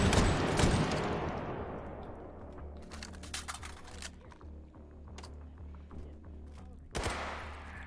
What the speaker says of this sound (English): a man bearing a fully automatic shotgun